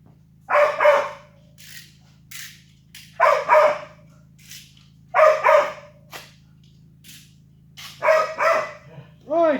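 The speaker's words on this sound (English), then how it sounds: "Oh, bloody noisy dog." A dog barks loudly nearby in four or five sharp bursts of two or three barks each, with pauses between and a low steady hum running underneath.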